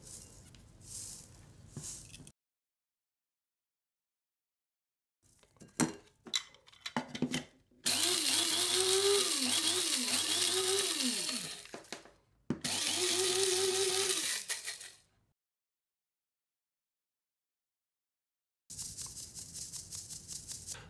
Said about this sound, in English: still quite a lot of coffee needs to be ground again.